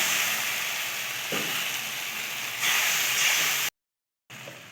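Masala spiced with chilli, coriander and cumin powders sizzles loudly while being sautéed in a pan with a little water for Kolkata-style egg biryani, a continuous close hiss with a couple of stirring scrapes and a brief silent gap.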